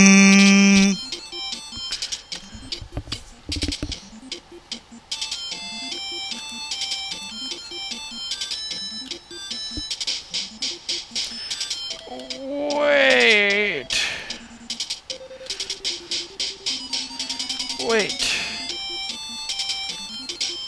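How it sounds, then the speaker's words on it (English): Retro video game sound effects and music from the strategy game Gemfire during an attack: chirpy, bleeping synth tones with sweeping pitch slides over a looping tune, no talk. "Time for the funny sound effect and attack!"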